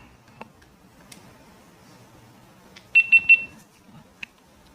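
A GoPro camera powers on with three quick, bright electronic beeps in a row, close and clear in an otherwise quiet room with faint handling clicks.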